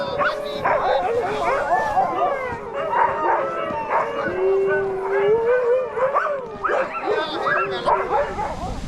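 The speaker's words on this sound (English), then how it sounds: "Our huskies were all pumped up and ready to go." A kennel of excited sled huskies in the snow near Rovaniemi, Finland howls, yips and barks at once in a loud, dense, overlapping chorus of rising and falling howls that carries on throughout.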